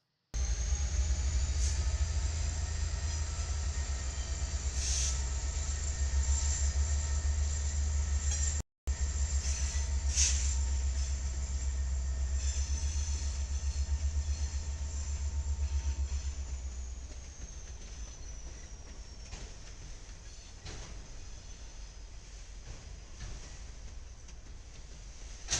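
EMD locomotive with a 645 prime mover rolling past, a loud steady diesel drone and rail rumble that fades after about seventeen seconds into quieter clattering of the passing cars.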